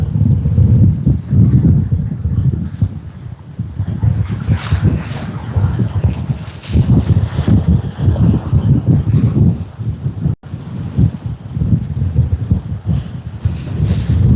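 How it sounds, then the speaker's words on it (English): Loud, steady wind at Sydney Airport roars and thumps against the microphone throughout, with one brief dropout partway through. "It's getting quite windy now."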